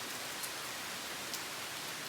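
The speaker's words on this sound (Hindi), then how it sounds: "इतनी झमाझम बरसात हो रही है" Heavy monsoon rain pours steadily in the mountains near Nainital, a dense, even hiss of downpour with faint scattered drops, continuous and unbroken throughout with no voices.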